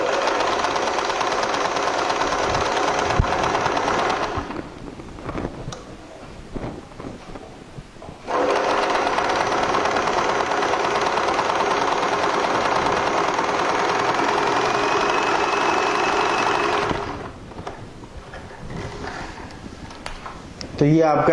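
A Usha Marvela sewing machine stitches a picot hem on fabric: a steady, close mechanical whirring runs in two long stretches, broken by short pauses where a voice speaks.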